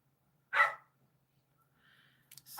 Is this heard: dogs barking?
yes